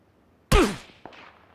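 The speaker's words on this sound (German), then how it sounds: "wo kommen die Schüsse alle her?" A single loud gunshot blast in PlayerUnknown's Battlegrounds, sharp onset then a decaying tail, followed by a fainter second report about half a second later.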